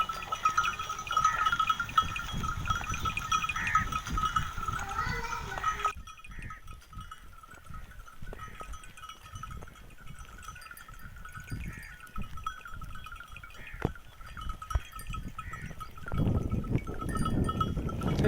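Cholistani sheep and goats bleat repeatedly amid a herd's shuffling and rustling, outdoors in Cholistan. The bleats are clear and moderately near, and a steady tonal ringing, like a bell, carries on behind them.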